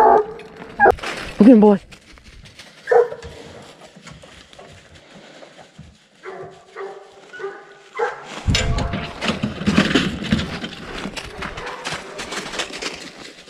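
A hunting dog bays and yips while trailing a bear over a West Virginia hillside, with scattered barks early and a busier stretch of yelps later, heard from a moderate distance amid rustling, with someone talking over parts of it.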